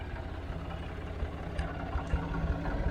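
A Massey Ferguson 50 tractor engine idles steadily close by, a low, even diesel rumble with a faint pulsing rhythm and small bumps in level, no talking over it.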